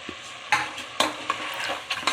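Mutton is stirred with green chili and tomato in a frying pan for a roast, giving scraping, clattering stirs at a steady pace over a soft, continuous sizzle. Several sharp spatula strokes stand out close to the mic.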